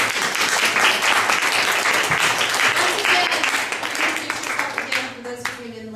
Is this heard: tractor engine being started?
no